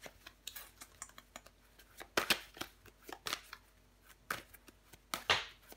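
Tarot cards are shuffled and laid out on a table, giving soft riffling flutters and sharp slaps at irregular intervals, close and fairly quiet.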